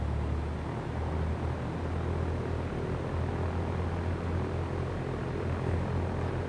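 A simulated aircraft taxiing at an airport in the X-Plane flight simulator, a steady droning engine hum with constant low rumble throughout, no voices.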